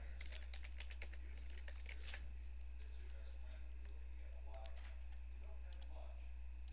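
Typing on a computer keyboard: a quick run of light, close key clicks early on, then sparser taps, over a steady low electrical hum, with no voices.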